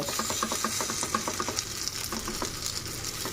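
Moong dal ponganalu fry in a pan with a steady close sizzle and soft crackling, broken by light scraping and stirring taps, and no one talks.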